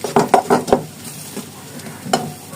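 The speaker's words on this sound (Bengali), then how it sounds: "প্রয়োজন মতো আপনি নাড়াচাড়া করে সবগুলোকে একসাথে মিশিয়ে নেবেন যাতে ভালো করে মিশে যায়" Khichuri spices are stirred in a pan: a spoon scrapes in four quick, close, sharp strokes, then a softer pause with light sizzling and one more scrape near the end.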